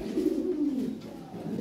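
Large Lahori pigeons cooing up close, a soft, low, rolling call that swells and fades over a moment and a half.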